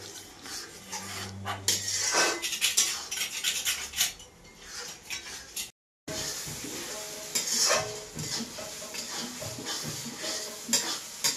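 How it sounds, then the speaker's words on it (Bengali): Spices frying and being stirred in a pan for goat meat curry, with steady scraping, soft sizzling and occasional utensil clinks, a brief pause midway, and no talking. "মশলাটাকে আমি ভালোভাবে ভাজবো।"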